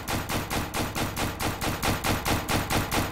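Rapid automatic gunfire from a long-range gun in the video game Paint Warfare, a loud, evenly spaced burst of about a dozen sharp shots in steady rhythm with no talk over it.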